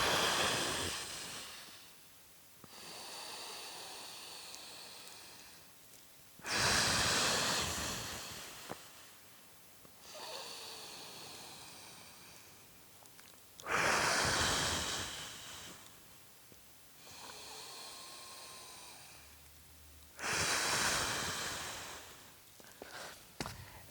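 Deep, controlled breaths during a kettlebell bottoms-up side plank, a series of loud, airy inhales and forceful exhales close to the microphone, alternating in a slow, steady rhythm roughly every few seconds.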